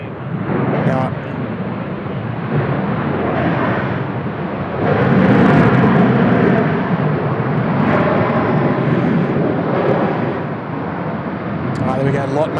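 A LOT Polish Airlines airliner taxiing at Seoul Incheon Airport, its engines a loud, steady roar that swells midway, with a person talking over it.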